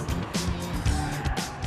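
A Ford Fiesta drives hard on a racetrack, its engine revving and shifting pitch in rising and falling sweeps with a brief tire squeal, heard from close range.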